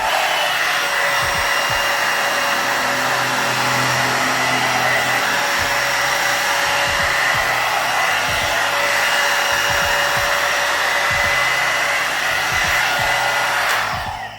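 A hot air brush hair dryer runs steadily and loudly throughout, a constant close whine and airflow hiss while it dries and styles hair, with soft brushing thumps and handling knocks against it.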